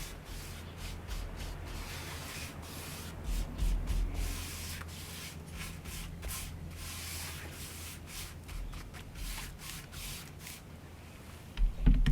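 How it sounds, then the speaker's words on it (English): Oak RV cabinet wood is being sanded in a quiet room, with repeated soft rubbing strokes in an irregular rhythm, close and fairly faint, and a short louder scrape at the end. "we're going to be sanding this down"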